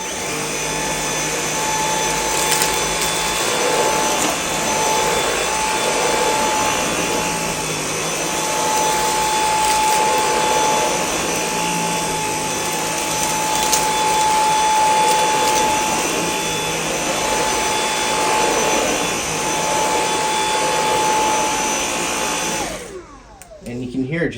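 Dyson V8 Extra cordless handheld vacuum cleaner running continuously on normal speed: a steady, even motor whine with a high tonal hum, close and unbroken, switching off abruptly at the very end.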